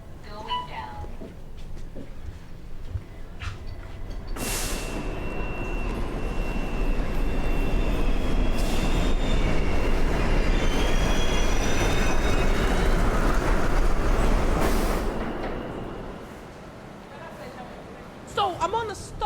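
A train rides along its rails with a rising rolling roar and faint squealing wheels, holding loud for several seconds before easing off.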